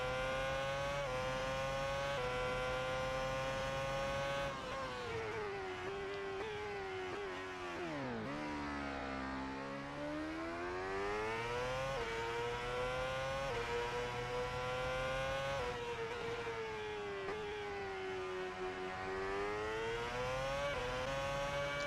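A 2010 Formula 1 car in Assetto Corsa at Sepang screams at high revs, the pitch sliding up through the gears, dropping sharply under braking around the middle, then climbing again, loud and continuous.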